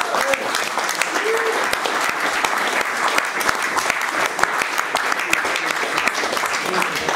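Dense, loud applause from a live audience at an acoustic rock concert in a bar venue, sustained clapping throughout with a few faint voices mixed in.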